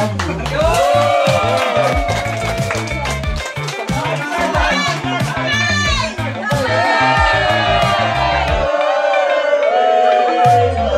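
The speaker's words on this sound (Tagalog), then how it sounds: "Sige guys, isang palakpak para sa talo sa Tarangkap." Crowd at a camping setup contest clapping, shouting and cheering, loud and lively, with voices calling out over the noise throughout.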